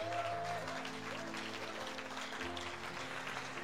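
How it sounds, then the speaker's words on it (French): Steady applause from a church congregation fills the whole stretch, many hands clapping together over held musical tones, with no pause in the clapping. "Est-ce que quelqu'un peut applaudir le royaume que Jésus nous propose?"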